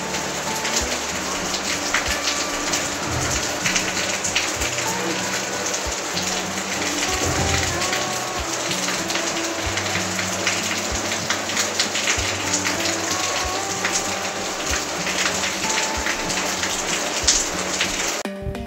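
Steady rain falls continuously, a dense even hiss of drops on surfaces with occasional heavier gushes, fairly close and uninterrupted, with no voices.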